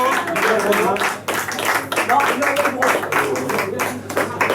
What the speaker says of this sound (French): Muriel, on l'applaudit, deux fois.